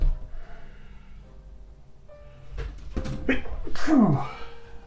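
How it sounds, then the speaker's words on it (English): A single person's sneeze, with a short sharp intake of breath and then a louder explosive burst, heard close up in a quiet room while miniature models are being assembled. "oh, excuse me, I'm gonna sneeze"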